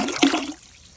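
A splash of vinegar is poured into a canner holding a couple inches of water. It is one short, close liquid splash that quickly dies away.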